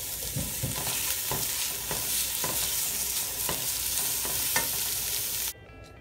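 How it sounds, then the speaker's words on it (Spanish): Garlic sizzles in a pan for a beef stew, with a continuous bright frying hiss and a series of rhythmic stirring scrapes close by, ending abruptly. "Después de un minuto, vamos a agregar el ajo."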